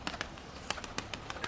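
Domestic pigeon cooing in a snowy yard, a few short soft coos and wing flutters in quick succession, fairly close, no talk.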